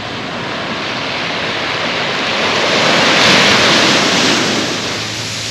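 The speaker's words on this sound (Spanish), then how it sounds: "escuchar el sonido de las olas cuando rompen" Ocean waves breaking on a beach at Cabo San Lucas, a loud continuous wash of surf that swells to a crest in the middle and then eases back, with no voices.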